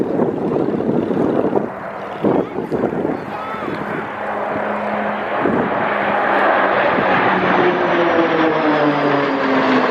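Avro Anson and Black Falcons aircraft passing at an air show, a loud droning propeller engine sound with rising and shifting pitch, with an announcer's voice over the public address through the early part.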